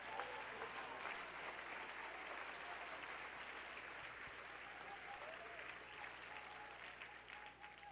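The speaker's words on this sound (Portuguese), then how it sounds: "Você pode aplaudir a Jesus?" A church congregation applauds, with steady, dense clapping throughout at a distance, fairly faint, with some voices mixed in.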